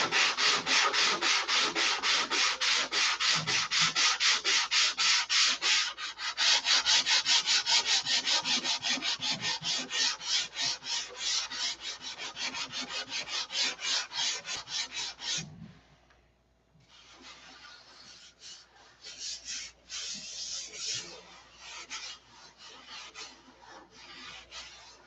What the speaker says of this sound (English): I need to sand that some more.